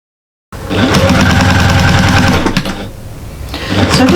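A sewing machine stitches fabric onto a cushion, starting after a short silence and running in a loud, fast, steady mechanical chatter, easing briefly before speeding up again.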